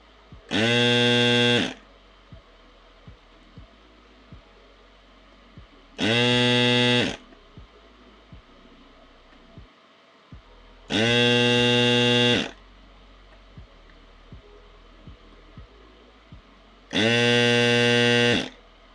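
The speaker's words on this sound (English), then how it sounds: "you can actually see the sound when I turn on the desoldering gun" A desoldering gun's vacuum pump during a Geonworks Frog keyboard build gives four loud, harsh electric buzzes of about a second and a half each, evenly spaced, with quiet clicks and low hum in between.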